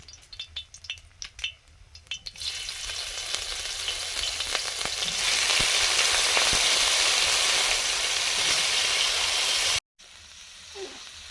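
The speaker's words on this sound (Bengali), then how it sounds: "পনিরটা ভাজবো" Paneer frying in ghee in a pan, a few clinks and clatters first, then a steady loud sizzle that swells and holds before cutting off.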